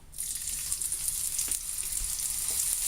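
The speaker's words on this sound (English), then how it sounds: "In the same skillet, we're just going to put in some garlic." Pre-minced garlic sizzles in a hot skillet, a steady, close, bright frying hiss that runs the whole time with faint crackles and no talking.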